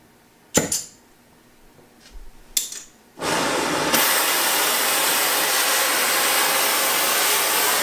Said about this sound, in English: we're going to use the acetylene torch to heat it up so that we can beat it with this sledge and flatten it out